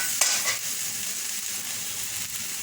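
Potatoes frying in a pan for aloo dum give a steady, close sizzle and hiss throughout, with a couple of brief stirring scrapes near the start and no voices.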